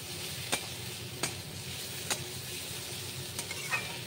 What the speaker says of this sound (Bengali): ভালো করে মিক্স করো।